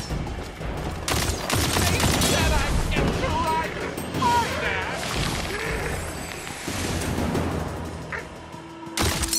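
Gunfire fills a Tiny Tina's Wonderlands fight as dense, continuous volleys of shots and impacts mix with game effects and booms, while people talk over the action.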